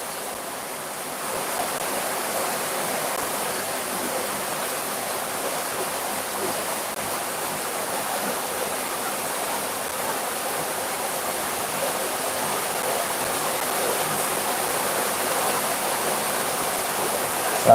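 Heavy rain falls at night as a steady, dense hiss of broadband noise that holds at an even level throughout, with no talk over it.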